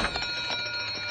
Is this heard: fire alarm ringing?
yes